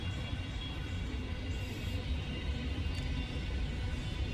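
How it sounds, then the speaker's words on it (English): A long train passing, a low steady rumble with broadband rolling noise that holds level throughout, fairly faint and continuous with no voices. "Long train."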